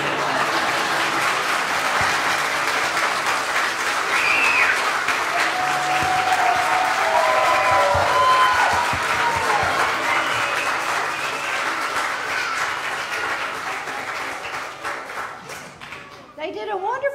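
Audience applause after a preschool Christmas program at a church hall, sustained clapping from a room of parents with faint cheers, tapering off near the end as a voice begins to speak.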